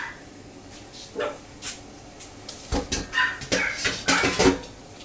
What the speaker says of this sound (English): don't know what my dogs are on about.